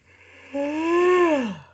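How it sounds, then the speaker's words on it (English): A person yawns once, a drawn-out voiced yawn that rises and then falls away, close and fairly loud, with a low steady hum underneath. "Oh, don't yawn."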